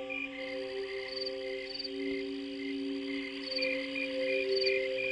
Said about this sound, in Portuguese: Os sons dos grilos são um pouco mais musicais do que os sons dos gafanhotos